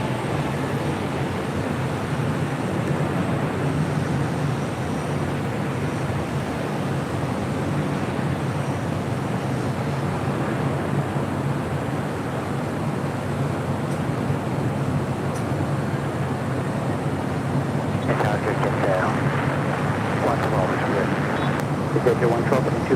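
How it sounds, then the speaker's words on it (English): A JetBlue Airbus A321 in the first Mint livery, bound for Boston, takes off from runway 25 Right at LAX: a steady, broad jet roar that fills the whole stretch, with a brighter hiss building near the end. "JetBlue 1388 in the first mint livery, heading to Boston in this A321."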